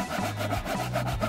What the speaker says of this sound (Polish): Spróbuję piły.